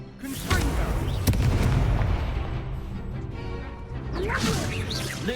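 Confringo spell cast in the video game Hogwarts Legacy: loud, dense blasts and crackling impacts with whooshing bursts amid combat noise, the action continuing throughout.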